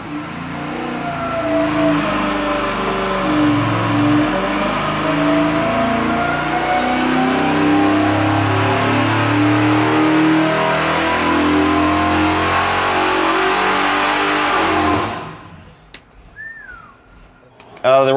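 A Chevelle engine revs hard on a dyno test cell, a loud sustained roar with rising and falling pitch for about fifteen seconds before cutting off, after which a voice speaks briefly.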